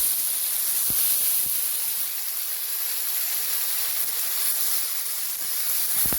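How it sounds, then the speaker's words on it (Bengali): Ghera bata paste frying in a pan for a Bengali dish, giving a steady loud sizzling hiss close by that runs without a break, with a few soft knocks. "দেখুন কি সুন্দর করে ভেজে নিচ্ছি আমরা।"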